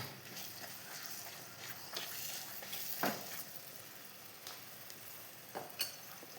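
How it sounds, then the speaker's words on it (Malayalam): Sliced banana sautés in ghee in a pan, giving a steady close sizzle with soft scrapes and taps from stirring, and no one speaks. "പഴത്തിന് ഇതിൻ്റെ അകത്തുനിന്ന് നല്ലോണം വഴറ്റിയെടുക്കട്ടെ, നെയ്യിൻ്റെ അകത്തുനിന്ന്"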